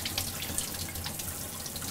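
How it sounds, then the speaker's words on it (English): Cool tap water runs steadily over brined salmon fillets in a sink, a continuous close hiss of flowing water with no talking. "So we just want to rinse all that salt"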